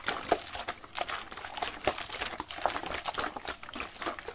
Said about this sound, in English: As I swish the liquid in the bottle, from side to side